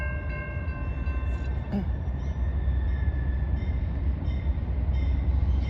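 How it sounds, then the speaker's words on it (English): A CSX train approaches Newcastle Junction in Muncie, Indiana, its rumble building steadily while tonal horn-like whines and faint squeals rise above it, with a voice faintly present. "We got one coming on the Newcastle district, coming up from Newcastle, headed to Fort Wayne at least."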